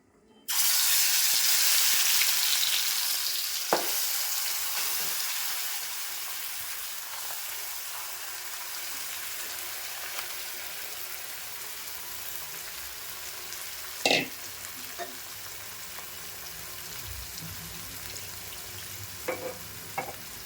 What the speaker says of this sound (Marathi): मासे पण फोडणीला टाकून घेते